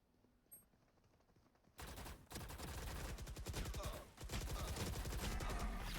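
Gunfire in the video game Valorant: quiet at first, then a sudden burst of dense, rapid shots that continues loudly with barely a pause through the rest of the clip.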